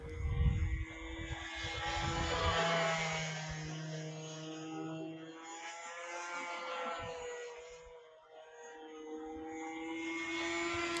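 A radio-controlled TL2000 float plane flies overhead in light wind, its electric motor giving a steady tonal whine that swells and fades as it passes, with a brief low hum near the start.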